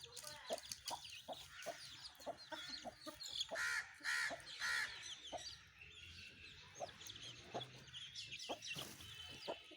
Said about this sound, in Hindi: हाँ, मुर्गियों को खाना डाल दिया।